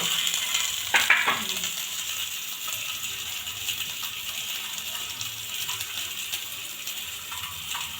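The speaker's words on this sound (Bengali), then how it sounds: "ডিমটা আগে এখানে ভেজে নেবে" An egg fries in oil on a tawa with a steady, close crackling sizzle, punctuated by a few sharp metallic clinks from a spatula near the start, and no talking.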